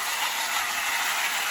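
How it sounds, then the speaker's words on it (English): A small vintage tin wind-up toy train, a Technofix No. 301, whirs along steadily, a continuous bright mechanical rattle and hiss with no pauses, fairly close. "The train's running perfect."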